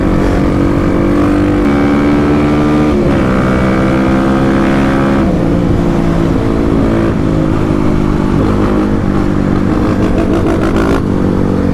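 A Kawasaki KLX300 and a big-bore KLX351 run on the road: a loud, continuous engine drone that stays close throughout, with the pitch rising and falling through gear changes and bursts of throttle.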